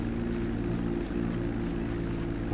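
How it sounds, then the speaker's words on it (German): Crop duster biplane in GTA 5 flying over farmland, its propeller engine giving a steady, loud droning hum that holds without a break throughout. "Und irgendwie so ein Düngemittelflugzeug ist das, so ein Düngemittel-Doppeldecker."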